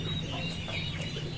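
Hens cluck softly and continuously in a farmyard coop on a hot summer day, a close, low murmur of fowl with no talking.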